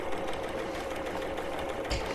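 A domestic sewing machine stitching fabric with Aurifil thread runs in a steady, continuous mechanical whir, close and even throughout, with a slight bump near the end.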